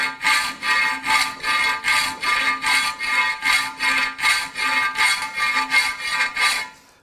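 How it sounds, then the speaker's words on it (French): A half-round hand file works sheet metal in about fifteen regular rasping push strokes, each a bright scraping burst, close and loud with no voices. "avec une lime semi-ronde, on va pouvoir creuser"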